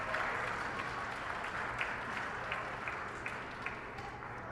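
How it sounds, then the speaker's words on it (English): Hackathon audience applauding the Doc Tung team, a faint, distant, even patter of many hands clapping over a muffled room background. "So please applaud Doc Tung."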